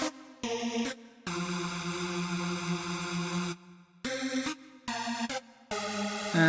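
Synth lead melody from an R&B club beat, bright buzzy sustained notes in short phrases with abrupt stops and gaps between them, heard solo and without talk.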